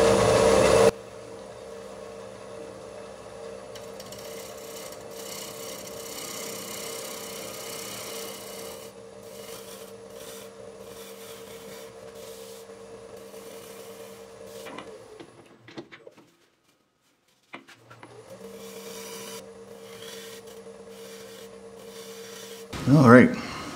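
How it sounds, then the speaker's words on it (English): A very sharp scraper works across a spinning butternut bowl on a wood lathe, cleaning up tool marks with a steady, continuous rasping scrape and lathe hum that briefly drops out near the end before resuming. "now I'm gonna clean up a few of these tool marks with a very sharp scraper."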